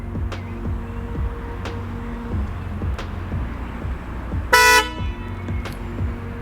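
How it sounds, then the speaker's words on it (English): A single short, loud horn honk from a 2021 Tesla Model 3, triggered by voice command, cuts through a steady low hum and a faint repeating clicking. "Hey Siri, honk the horn."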